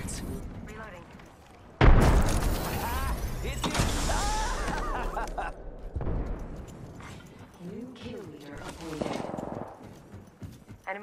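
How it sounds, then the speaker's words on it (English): A loud boom from a grenade in the Apex Legends shooter game erupts suddenly, followed by rumbling blasts and scattered gunfire, while a voice talks in the mix. "Grenade out!"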